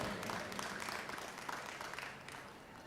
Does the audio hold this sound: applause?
yes